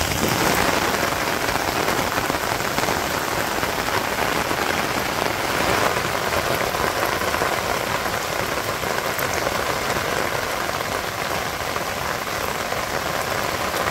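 Rain keeps falling on a Bangladeshi village during the rainy season, an unbroken close hiss and patter of drops holding steady for several seconds with a faint low rumble beneath and no talking.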